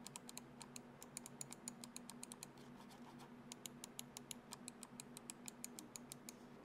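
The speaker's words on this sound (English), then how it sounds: "This is what the scroll wheel and top button sound like." Rapid, crisp clicks from the scroll wheel and top button of an MSI Clutch GM31 budget gaming mouse, ticking steadily in quick bursts with a brief pause midway, close and fairly quiet over a low background hum, no talking.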